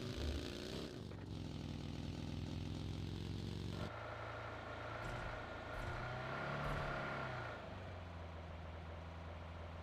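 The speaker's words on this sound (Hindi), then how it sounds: "मुझे गाड़ी की आवाज़ आई।" Car engine in the PUBG Mobile battle royale game, a steady droning motor hum that rises and shifts in pitch as it draws closer, fairly loud and continuous with no talk over it.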